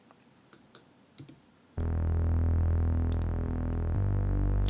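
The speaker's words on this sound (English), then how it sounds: "So it's kind of like a retro bass kind of sound" A few quiet clicks, then a loud, buzzy retro synth bass note from Logic Pro stock plugins starts and holds, shifting pitch once near the end, dry and unprocessed.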